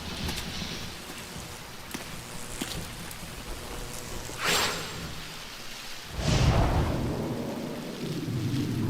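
Steady rain hissing throughout in a video game (Kingdom Hearts Final Mix), with a sharp rumble of thunder partway through and a louder, deeper thunder crash near the end.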